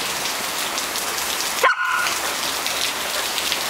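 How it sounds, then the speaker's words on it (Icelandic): Heavy tropical rain pours steadily in Thailand, a dense constant hiss on surfaces, briefly broken by a single short dog bark. "Sjáðu ekki hvað mikið rigning."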